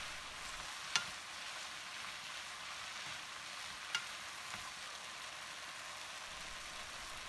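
Onion and potatoes stir-fry in a pan with a steady, faint sizzle, broken by two sharp taps of a utensil on the pan.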